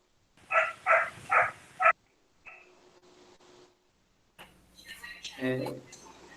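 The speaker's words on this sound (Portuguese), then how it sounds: "Isso foi o cachorro respondendo?" Dog barking about four times in quick succession, fairly close, while a teacher speaks Portuguese in a math lesson, followed by muffled talk.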